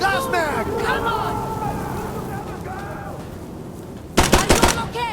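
Gunfire in the combat video game Insurgency: Sandstorm: distant rattling shots under a player shouting through much of the clip, then a loud close burst of several rapid rounds near the end.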